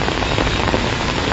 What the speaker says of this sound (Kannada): ಕಳೆದ 15-20 ನಿಮಿಷಗಳಿಂದ ಬೆಳಗಾವಿಯಲ್ಲಿ ಮಳೆ ಈ ರೀತಿಯಾಗಿ